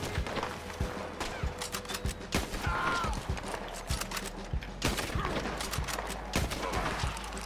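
Rapid gunfire crackles through a bounty hunt in a Red Dead Redemption-style video game, with many sharp shots spread across the whole stretch at moderate distance, some in quick bursts, over a steady low background hum.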